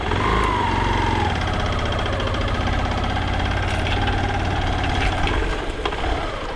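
A motorbike engine idling with a rough, steady chugging rumble and slight knocking, loud and close throughout with no voices.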